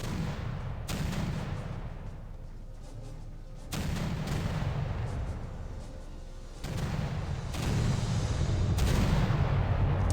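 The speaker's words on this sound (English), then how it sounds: "seemed like a large explosion" Large explosions in the naval combat game Victory at Sea Pacific, sounding as several broad, heavy booming bursts with rumbling roar between them, loud and with no voices over them.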